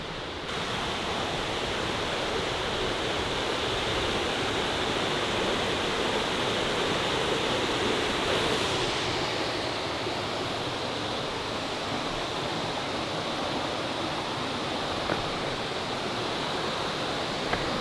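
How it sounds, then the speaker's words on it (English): Waterfall at Sarah's Creek pouring steadily, a dense continuous roar of falling water heard up close, unbroken for the whole stretch with no voices. "This is a pretty cool waterfall."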